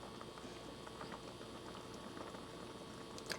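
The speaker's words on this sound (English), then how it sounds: "I'm watching it, it's boiling." A pot of water for spaghetti noodles boils at a full rolling bubble, a dense continuous gurgling and popping, close and steady with no voices.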